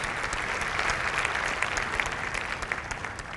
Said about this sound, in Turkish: Buna bir alkış almamız lazım bence.